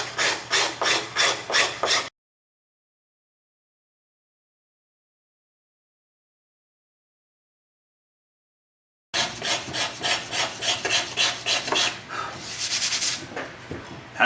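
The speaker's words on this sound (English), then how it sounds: "You can actually shape the wood with the scraper also." Hand scraper shaping the wooden top of a mandolin, with quick rhythmic rasping strokes in two bursts separated by a long silent gap, close and loud.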